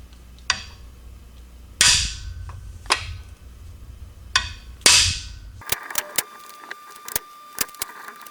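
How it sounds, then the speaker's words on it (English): Loud metallic strikes from a big hammer driving a cam bearing into a Ford 390 engine block ring out one at a time, about five heavy blows with pauses between, followed by a flurry of sharper, lighter clinks. "You're going to use the big hammer to do this to make sure you drive that thing in"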